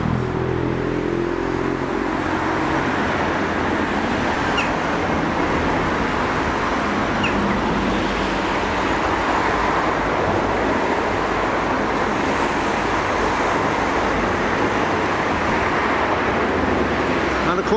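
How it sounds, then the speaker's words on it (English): Steady road traffic at Tondu, near link road works and a church, forms a constant broadband hiss and rumble from vehicles passing behind, without breaks or distinct pass-bys, with no voices heard. "Still the noise of the traffic behind me."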